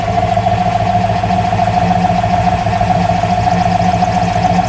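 A 1966 Ford Mustang GT convertible's 289 K-code V8 idles steadily and loudly up close, a constant rumbling drone with a strong mid tone and no revving.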